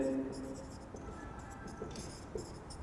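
Pen writing on paper during a physics lesson about diode rectifiers, faint scratchy strokes in short bursts under quiet room tone.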